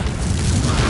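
A loud, booming burst from the Confringo fire spell in Hogwarts Legacy on PS5, a dense roaring explosion filling the whole short moment without any voices.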